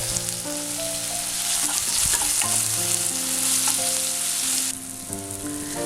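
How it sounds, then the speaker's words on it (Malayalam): Tomatoes frying with softened onions and green chilli for bread burji, a steady loud sizzle with stirring scrapes running throughout, briefly dipping near the end. "ഇനി ഇതിലേക്ക് നമുക്ക് തക്കാളി ചേർക്കാം."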